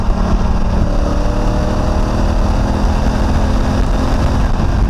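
A Honda Africa Twin motorcycle engine on a test ride gives a loud, close, continuous roar that holds steady throughout with no break or pause.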